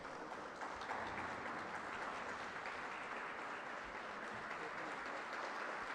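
Sustained audience applause at a lecture series session, steady dense clapping from a large crowd throughout, moderately distant and even in level.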